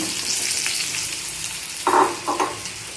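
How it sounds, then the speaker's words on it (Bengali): Pointed gourd (potol) stir-fried with spices and salt in a pan, with a soft steady sizzle under two brief scraping stirs of the spatula near the end, close, with no voices. "তো পটলটা দিয়েও ভালো করে এখন কষিয়ে নেব।"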